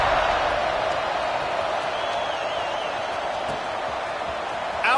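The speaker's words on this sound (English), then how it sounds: "this crowd is buzzing after that last score" Steady, loud roar of a football stadium crowd buzzing after a score, ahead of the kickoff, a continuous broadband wash with no break for the full five seconds.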